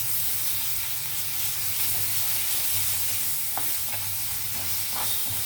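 Ginger garlic paste frying with onions in a pan for potato kurma, a steady close sizzle and hiss with a few faint stirring scrapes, no talking.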